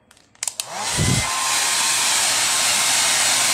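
A loud, steady blast of air from a blower drying a washed car roars continuously after a few brief clicks and a short low rumble at the start.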